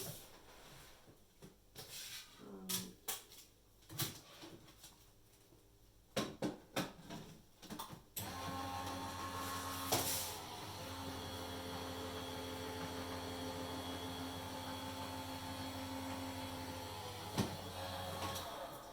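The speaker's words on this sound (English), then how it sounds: "I run this through my die cutting machine" A die cutting machine cranks an embossing folder through its rollers, first a few scattered clicks and handling knocks, then a steady, loud grinding rumble that runs unbroken for about ten seconds.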